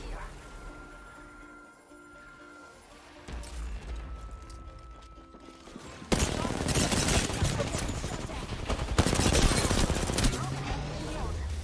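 Gunfire in the Apex Legends video game: dense bursts of rapid weapon fire and explosive crashes that grow louder and more continuous partway through, heard as game audio with nobody talking.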